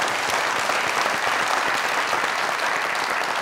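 Dense, loud audience applause honouring Pakistani cricketer Mohammad Yousuf at a welcome celebration, a steady thick wall of many hands clapping with no break.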